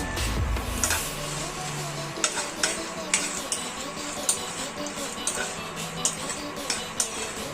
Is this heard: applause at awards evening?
no